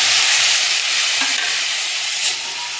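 Spiced masala for a mixed-vegetable curry is sautéed in a pan, a loud, close, continuous sizzle with occasional stirring scrapes and no voices.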